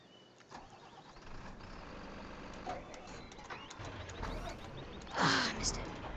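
A truck engine starts up in the Farming Simulator 2015 video game, cranking and catching into a mid-pitched idle with a brief louder rev near the end, heard amid game background noise and a voice talking.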